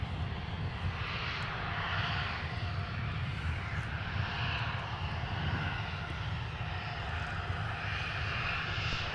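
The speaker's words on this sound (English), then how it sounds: "The flying fossils themselves, the Fairchild Swearingen Metroliners, common sight here at MSP Airport for Bemidji Aviation" A Fairchild Swearingen Metroliner turboprop at MSP Airport gives off a steady, broad engine roar that holds even and continuous at a moderate distance, with no talk over it.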